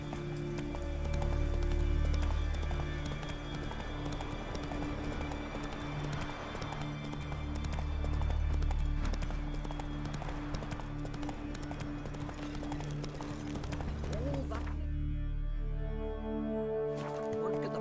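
Roach the horse galloping in The Witcher 3, a steady rhythmic clip-clop of hooves running continuously under a low droning ambience, fairly faint, cutting off near the end.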